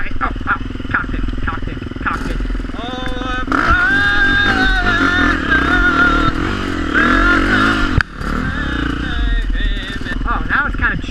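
Motorcycle engine revving and running close by after a chilly ride, a rough, steady throbbing with rising and falling pitch, under someone talking.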